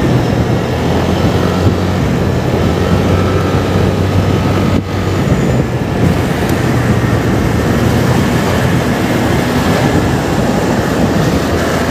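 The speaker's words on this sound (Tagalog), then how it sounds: "Ang daming eroplano ngayon dyan ng Cebu Pacific." Cebu Pacific airplanes near NAIA airport produce a loud, continuous broadband roar that holds steady throughout, close and dominant with no voices.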